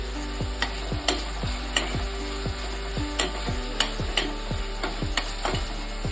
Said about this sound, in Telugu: పచ్చి వాసన పోయేదాకా ఫ్రై చేసుకోవాలి మూడు పచ్చిమిర్చి